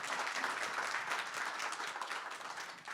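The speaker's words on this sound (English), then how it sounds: "Let's give him a round of applause" Audience at a software product demo applauding a presenter, a moderate, even wash of clapping from a modest crowd, fairly quiet and steady throughout.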